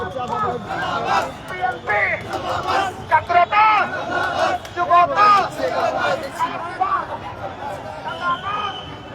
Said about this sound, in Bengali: তারা স্লোগান দিচ্ছে